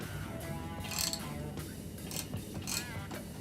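Tight screws on the front fender of a Harley 48 motorcycle being loosened, with faint creaking and mechanical ticking and a couple of brief metallic scrapes against a steady background hum.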